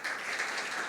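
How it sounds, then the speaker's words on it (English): Applause from a conference audience for a discussion panel, a steady dense wash of clapping held at an even level through a brief moment, with no voices over it. "may I request a round of applause for our panel"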